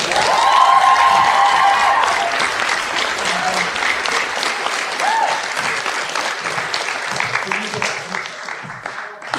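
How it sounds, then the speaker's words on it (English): A theatre audience at a Beauty and the Beast stage show claps loudly and continuously, a thick wall of applause with a few cheers and voices mixed in, easing slightly toward the end. "let's give them a big round of applause"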